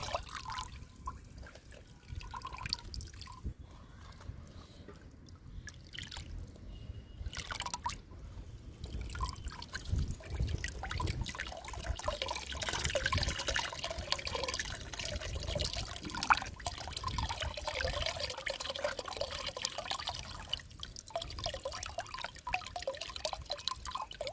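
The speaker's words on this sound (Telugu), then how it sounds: "ఒక్కో బకెట్లో రెండు డబ్బాలు పోసానండి లిక్విడ్ని" Homemade liquid plant fertilizer, mixed from lentils, chickpea cake, tea powder and egg powder, is poured from cans into a bucket. It makes a continuous watery splashing and dribbling that runs steadily and is loudest midway, with no voices.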